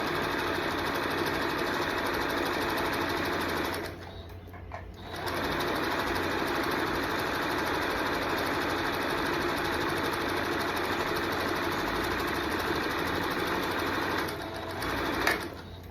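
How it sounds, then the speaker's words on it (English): A sewing machine stitching the last side of a reversible tote bag, a steady close whirring hum that stops briefly about a quarter of the way in and again near the end. "Last side that I'm gonna sew."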